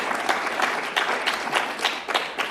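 An audience claps in rhythmic unison, a steady beat of sharp hand claps repeating roughly three times a second, close and moderately loud with no talk over it.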